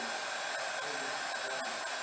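A heat gun warms a dented panel on a 2021 Subaru Crosstrek before paintless dent repair, producing a steady, even hiss and whir that holds at a constant level throughout.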